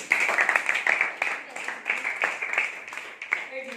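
Classmates clap for a student in a school Hindi class quiz activity, a steady patter of hands over about four seconds, moderately loud, with scattered voices mixed in.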